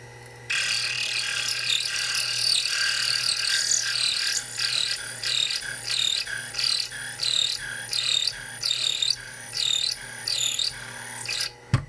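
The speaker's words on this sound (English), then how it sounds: "I got a diamond bit in here that just happens to be just perfectly sized to fit in this counterbore" A diamond bit is twisted by hand inside a counterbore on a Proxxon FF230 milling vise hold-down, with a little machine oil, giving a steady scratchy grinding that breaks into a run of regular rasping strokes, close and fairly loud.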